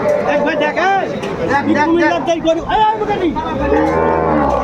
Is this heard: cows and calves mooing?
yes